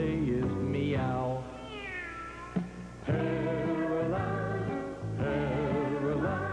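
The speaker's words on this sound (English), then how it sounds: "all he can say is meow" A cat meows in a long, drawn-out, wavering series of loud cries, several meows strung together closely and heard alone without talk.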